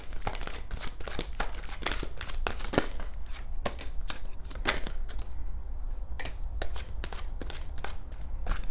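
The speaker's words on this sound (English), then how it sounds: "last shuffle." Oracle cards for a pick-a-card tarot reading are shuffled by hand in quick, close, crisp riffling bursts, with short pauses between flurries and no talking.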